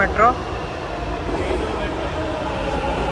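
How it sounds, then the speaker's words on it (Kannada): A metro train pulls into a station in Bangalore, its steady, loud rumble of wheels and carriages filling the platform throughout, with a person's voice briefly audible near the start. "ಈಗ ಮೆಟ್ರೋ ಬರ್ತಿದೆ, ಮೆಟ್ರೋಗೆ ಕಾಯ್ತಾ ಇರೋದು"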